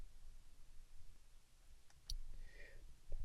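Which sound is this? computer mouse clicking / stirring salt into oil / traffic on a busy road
computer mouse clicking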